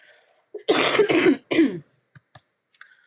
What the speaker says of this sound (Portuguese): eu vou ter que tossir aqui